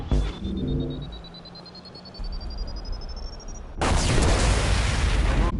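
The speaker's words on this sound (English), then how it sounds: "Impending explosion." An explosion from the video game Mass Effect 2, set off by an incineration tank, arrives as a sudden loud, sustained roaring burst after a rising electronic tone and low rumble.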